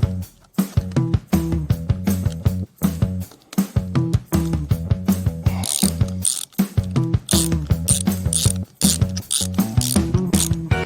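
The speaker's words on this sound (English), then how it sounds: "I'm going to gradually tweak these up, going opposite bolts crossways." A hand ratchet clicks rapidly in repeated bursts while tightening bolts crossways on a full-suspension mountain bike being converted to electric, close and loud with brief pauses between strokes.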